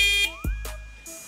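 Loud electronic horn of a Skyboard BR40 electric trike, a 72-volt three-wheeler, sounding in short harsh buzzing blasts close by, with a descending then rising tone between bursts.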